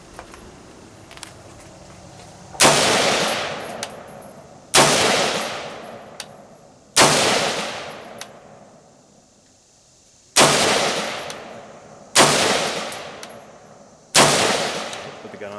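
Six sharp gunshots fired in fairly quick succession at a head target on a shooting range, each a loud, close crack with a short decaying tail, spaced about one to two seconds apart after a brief quiet lead-in.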